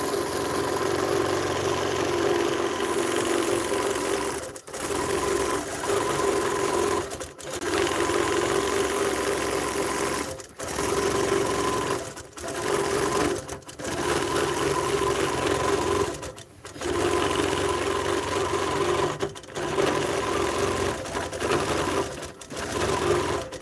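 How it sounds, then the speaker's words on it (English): A Baby Lock Gallant XL long arm quilting machine stitches a row, a loud, rapid mechanical whirring that runs in long bursts broken by brief pauses, close by. "It's quilting another row."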